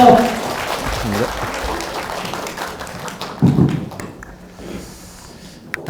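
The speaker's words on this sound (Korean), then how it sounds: "힘찬 박수 부탁드립니다." Audience applause at a real-estate lecture concert, loud at first and gradually fading, mixed with some voice sounds and shuffling, then a brief burst of louder noise before tailing off.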